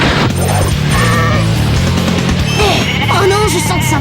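A mutant sheep in a French cartoon bleats with loud, wavering calls over busy music and effects, with a dense, crowded mix throughout.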